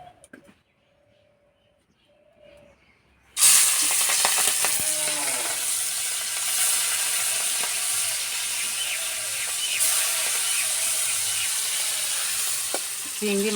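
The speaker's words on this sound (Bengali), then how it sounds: "তেল গরম হয়ে গেছে, মাছ দিয়ে দেবো।" Prawns seasoned with turmeric and salt hit hot white oil in a pan: a sudden loud sizzle bursts in after a quiet start and holds steady and close, with faint stirring and scraping.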